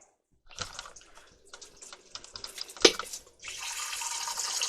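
A measuring cup is rinsed beside a one-gallon water distiller, with clinks and handling sounds followed by a steady splash of running water near the end.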